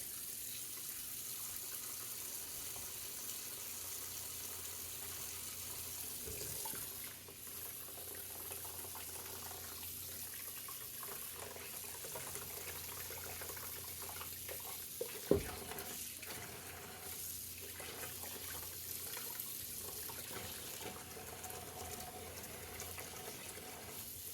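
Hot water runs steadily from a tap into a sink to dissolve glue from a disc golf disc, a faint, continuous splashing stream with a brief knock partway through and no talking.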